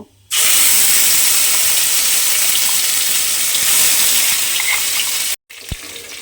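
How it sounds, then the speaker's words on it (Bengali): Spice paste for a Bengali egg and poppy-seed dish hits hot oil with a sudden, loud, continuous sizzle that stays steady for several seconds, then cuts off abruptly. "এবারে যে মশলাটা আমি পেস্ট করে রেখেছিলাম সেই মশলাটা আমি তেলের মধ্যে দিয়ে দেব।"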